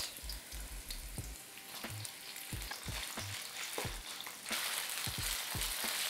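Meat and ginger fry in a wok, with a steady close sizzle and repeated scraping stir strokes that come in an uneven rhythm and intensify toward the end.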